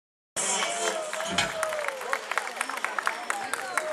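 Outdoor harvest-festival audience in Reșița applauding a folk performer, with sustained crowd clapping and sharp individual claps that stay fairly strong to the end.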